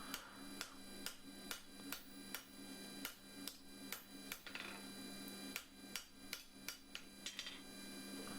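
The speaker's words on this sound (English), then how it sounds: "Get a smaller hammer, a bit more control." Hammer forging hot steel for a pair of 3/8-inch flat stock tongs, sharp ringing metal-on-metal blows struck in a steady rhythm of roughly one or two per second, close and clear over a constant low forge hum.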